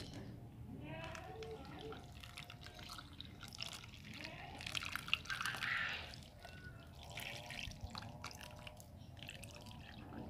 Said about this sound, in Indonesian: tinggal kita siram